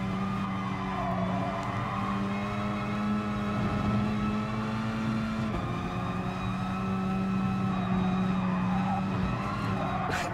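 Renault Megane race car lapping Bathurst in the racing game GT Sport, a steady engine drone with a sustained tonal whine that shifts pitch as it climbs the hill, with faint commentary underneath.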